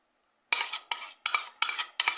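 Condensed milk and evaporated milk are stirred together in a bowl. Five quick, evenly spaced scraping strokes of a utensil follow a moment of silence, close by, with no voices.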